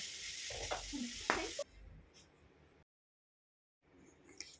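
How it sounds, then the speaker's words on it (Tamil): Onion, tomato, carrot and beans sautéing in a pan for sambar, a loud sizzle with stirring scrapes that drops away to quiet and then faint sizzling returns. "இது எல்லாத்தையும் ஒன்றா மிக்ஸ் பண்ணி நல்லா வதக்கி எடுத்துக்கணும்."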